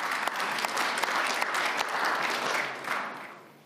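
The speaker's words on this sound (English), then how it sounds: "That's an applause line." An audience at the Munich Security Conference breaks into applause, a dense continuous wash of clapping with a few sharp claps standing out, holding steady before tapering toward the end.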